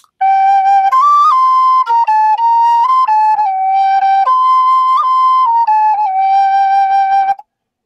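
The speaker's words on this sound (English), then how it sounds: "came up with just an Irish whistle" An Irish whistle plays the dragon theme, a haunting melody of clear, pure sustained notes stepping between pitches with short breaks and slight bends, close and loud, unaccompanied, ending in silence.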